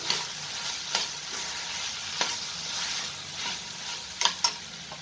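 Spice masala for chana masala stir-fried in a pan, continuous sizzling with periodic sharp scrapes and taps of the spoon, close and clear with no talking.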